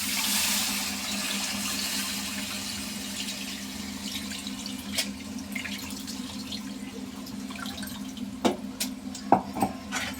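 Tamarind juice pours over raw fish pieces for a tomato fish curry, a continuous watery splashing and trickling with a steady background hum, ending in a few louder drips and splashes.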